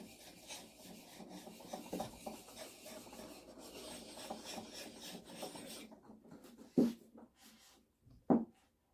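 A chisel's flat back scrubs on a sharpening stone in steady, close strokes, a soft rasping rub that stops near the end, with two sharp taps of the steel on the stone.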